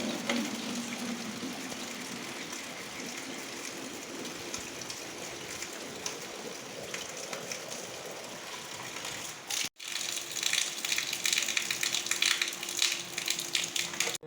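Water poured into a plastic bottle punctured with small holes, a steady trickling, spattering stream that runs continuously, then breaks off briefly and resumes slightly louder and brighter.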